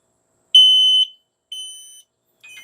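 An X-Sense FS31 smart mini smoke detector sounds its alarm: a loud, piercing high-pitched beep lasting about half a second, followed by a shorter second beep and the start of a third, with silence in between.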